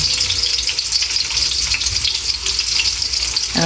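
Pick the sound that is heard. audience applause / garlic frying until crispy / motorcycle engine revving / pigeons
garlic frying until crispy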